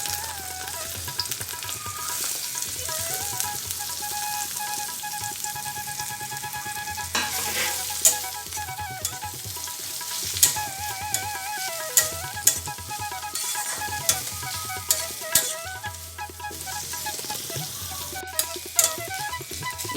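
Bitter gourd pieces sizzle steadily in a pan of hot tempered oil with turmeric, with repeated clinks and scrapes of a spoon stirring them throughout.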